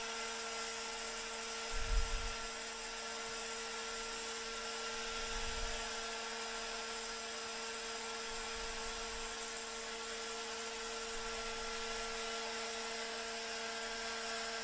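A drill bit milling slowly through a sheet of unidentified aluminum, about half a millimeter per pass, gives a steady whining drone with faint low thumps recurring every few seconds, running alone throughout.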